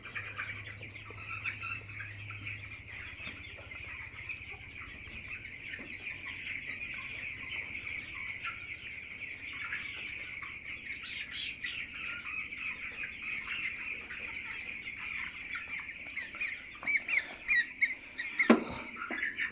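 Broiler chickens around sixteen days old fill a poultry shed with continuous clucking and squawks, a dense close flock chorus, with louder flapping and squawking bursts toward the end.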